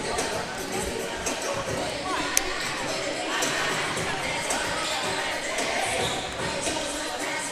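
A steady, busy murmur of the crowd in a gym at a youth league basketball game fills the air, with chatter and occasional sharp sounds poking through the constant din.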